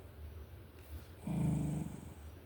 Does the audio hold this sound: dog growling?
yes